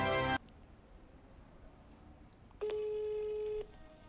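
An outgoing phone call ringing while waiting for an answer: a short burst of noise, a pause, then one long electronic ring tone about a second in length, clear and close with no talk over it.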